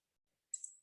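A single crisp computer mouse click, close and brief, during a Figma design session, with silence around it.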